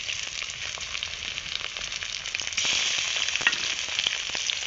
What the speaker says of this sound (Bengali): পেঁয়াজটা হালকা ভাজা হয়ে গেলে দিয়ে দিচ্ছি আদা রসুন বাটা